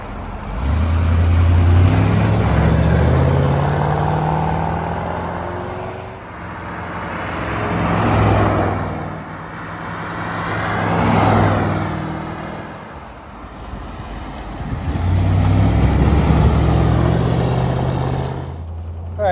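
A 1956 Dual Ghia convertible drives past repeatedly on a road. Its engine note swells and fades with each pass, about four distinct approaches and departures, with the growl loudest as the car goes by close.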